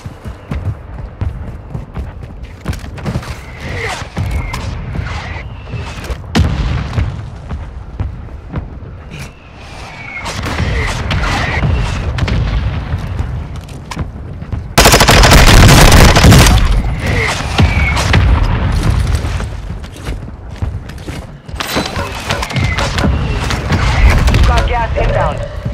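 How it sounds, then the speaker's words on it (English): Heavy explosions and bursts of gunfire in a Call of Duty Warzone 2 match, with booming blasts and rapid shots. One especially loud broadband blast hits partway through, and radio-style voice callouts run over the battle din. "Hostile war strike near your position."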